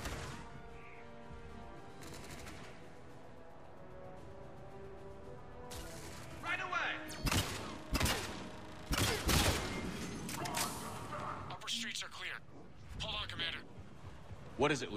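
Turret gunfire in Mass Effect 3, heard as a quiet stretch that gives way to loud, clustered bursts of rapid automatic shots and impacts in the second half, with a voice speaking over parts of the action.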